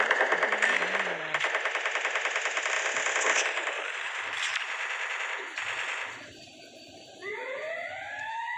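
Rapid automatic gunfire from a new heavy gun in the mobile game Free Fire rattles loud and close in sustained bursts with beeping game tones, then gives way to rising electronic effect sounds.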